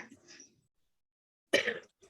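A single harsh cough bursts out after a quiet pause, preceded by faint, low murmuring and followed by a brief softer sound.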